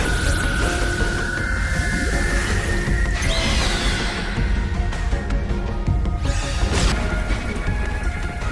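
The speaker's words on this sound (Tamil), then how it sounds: "அந்த சத்தம் கேட்கும்போது வெடி விபத்து மாதிரி தெரியுது" A loud, explosion-like crash effect from the Dandadan anime, a dense, roaring burst of noise that fills the whole stretch with continuous rumble and clatter and no clear pause.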